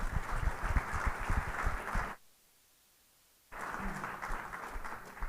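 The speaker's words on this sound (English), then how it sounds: "Would you give them a quick round of applause?" An audience at an airpower forum panel gives a quick round of applause, with moderate clapping for about two seconds, then a brief gap of near silence before the clapping resumes.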